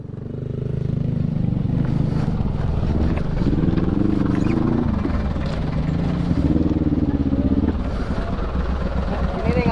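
Motorcycle engine idling and revving at a campground in Bogor, with a low steady rumble throughout and voices talking over it.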